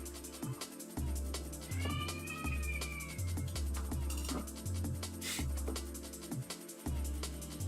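A pet cat meows briefly indoors near an open window, a short rising and falling cry heard once or twice over a steady, rhythmic clicking and thumping background.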